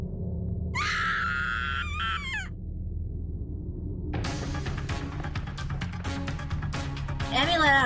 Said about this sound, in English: Emmy let out another scream and came running toward me down the stairs.